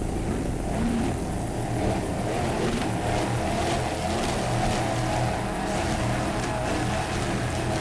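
Racing powerboats with twin 500-horsepower Mercruiser inboard engines at a Savannah Grand Prix offshore race, a steady broad engine roar holding at constant loudness throughout with no talk.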